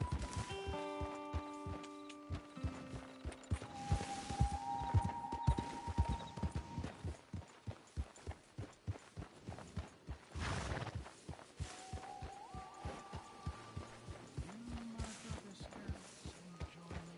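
Horse hooves clip-clopping in Red Dead Redemption 2, a steady walking rhythm of soft close thuds that carries through the whole stretch, with quiet ambient tones and occasional swishes in the background and no voices.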